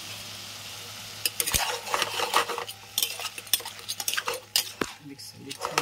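Shrimp being stirred in a pan with a syrupy glaze, a utensil scraping and clinking against the metal in quick irregular strokes over a soft sizzle, close and moderately loud.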